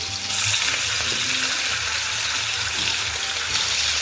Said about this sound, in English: I'm going to go in with the oxtail. We'll get that in there and get that seared off